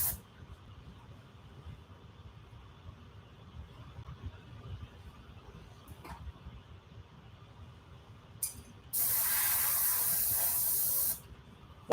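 An airbrush sprays paint onto a pirate skull: a steady, bright, fairly loud hiss holds for about two seconds near the end, with a brief softer burst just before it, over a quiet background.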